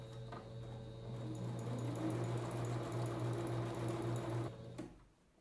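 Sewing machine running a continuous stitch through tricoline cotton fabric, a steady close mechanical whir and rapid needle clatter lasting about four seconds before stopping.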